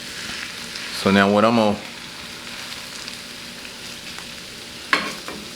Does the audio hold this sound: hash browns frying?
yes